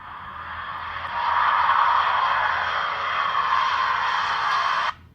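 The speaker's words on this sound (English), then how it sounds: "Start with an airplane." Recorded airplane noise played for a child's hearing demonstration: a steady, loud broadband roar holding evenly for about four seconds and then cutting off sharply.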